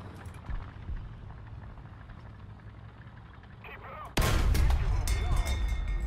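A tank cannon shot in the War Thunder game, a light British Crusader Mk III tank, goes off as one sudden loud blast, followed by sustained rumbling battle noise after a stretch of quieter engine hum.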